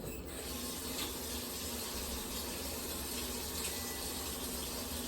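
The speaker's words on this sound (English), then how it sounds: "let me go ahead and start the hot water here." Hot water runs steadily from a kitchen tap while beans are being prepared, a constant close gushing hiss that stays even throughout with no talking.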